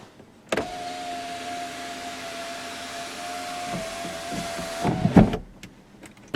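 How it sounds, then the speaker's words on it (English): Electric motor of an automatic sunroof on a 2008 Toyota Camry XLE V6, a steady close whine running about four seconds inside the cabin, then stopping with a soft thunk and a couple of clicks. "A sunroof, which is automatic."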